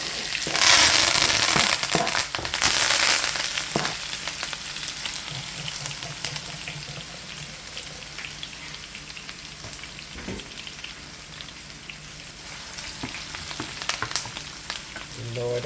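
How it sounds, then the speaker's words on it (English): Seasoning sautéing in a pan for Jamaican ackee and saltfish, a steady close sizzle with a louder burst of frying at the start and occasional stirring clicks, no talking. "I'm gonna add my seasoning and allow to saute for a few minutes."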